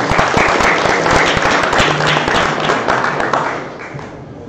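An audience at a Ruby conference talk applauds the organizers: loud, dense clapping with distinct individual claps near the mic, fading slightly toward the end.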